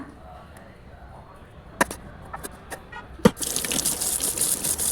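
After a few soft clicks and taps, cold water starts gushing and splashing steadily close by as a face is washed, continuing to the end.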